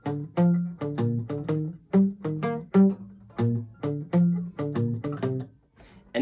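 The front half of a jingle is played on guitar, with plucked notes and chords in a clear bouncy rhythm, close and alone, ending with a short pause.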